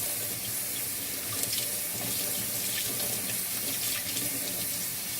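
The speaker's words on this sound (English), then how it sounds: "So you see, I have my strainer, and so it can catch. You see, I'm washing it." Tap water runs steadily over sea moss held in a strainer at a sink, a continuous close splashing hiss with no talking.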